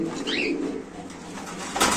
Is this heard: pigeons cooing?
yes